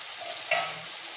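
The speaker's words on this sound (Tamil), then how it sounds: "தக்காளி நல்லா வதக்கணும்." Tomatoes for tomato chicken sautéing in a pan, a soft, steady sizzle with a single brief stir or scrape in the middle, close and quiet.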